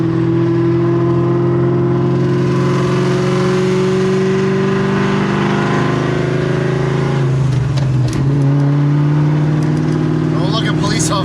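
Terminator Cobra Mustang engine idling with a steady, loud exhaust rumble that dips briefly near the end, with a faint voice and other light noises over it.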